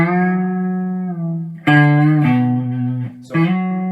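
An electric guitar note sustains, then a fresh pick is bent downward in pitch and released, with a second short bent note, clear and close.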